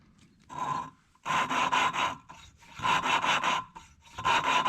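Valves from a DS650 engine are lapped with coarse lapping compound, turned back and forth by a suction-cup tool. Gritty rubbing comes in close, rhythmic bursts of rapid strokes, separated by short pauses.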